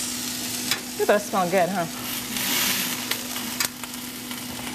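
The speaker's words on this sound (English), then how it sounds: "Okay, I just flipped my pork chops." Pork chops sizzle steadily in a hot pan as they are flipped, a broad frying hiss running throughout with a short burst of talk early on.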